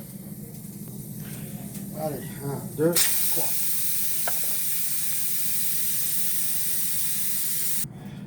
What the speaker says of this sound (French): je vais retirer la soupape pour enlever la vapeur qui est à l'intérieur avant de l'ouvrir